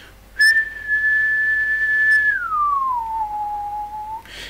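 A clear lip whistle holds a high steady note, then glides down smoothly to a lower pitch and sustains it, close and alone with no speech.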